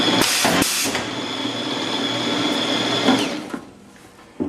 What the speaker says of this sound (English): So we feed a piece of plastic, turn the machine on, press die cycle